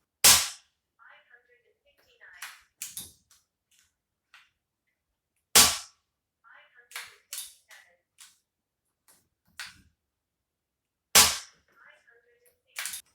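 A sub-12 air rifle fires Barracuda 15 pellets: three sharp, close shots spaced several seconds apart, each followed by quieter clicks and clacks of the action being cycled from the magazine.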